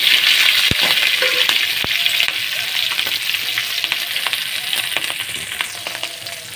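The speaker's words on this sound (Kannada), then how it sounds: "ಸಾಸಿವೆ ಚಟಪಟ ಆದಮೇಲೆ ಕಾಯಿ ಮೆಣಸು ಹಾಕ್ಕೊಂಡ್ರೆ" Mustard seeds splutter and green chillies fry in hot oil, making a loud, continuous close-up sizzle dotted with sharp little pops and crackles throughout.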